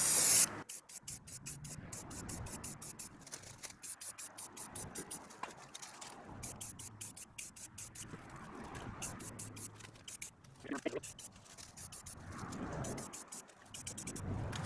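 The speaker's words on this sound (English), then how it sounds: "let's apply the second coat of color" Spray can or spray gun hissing steadily as a second coat of color goes onto a Wheel Horse garden tractor under restoration, a continuous close airy spray with slight pulsing and a few short breaks.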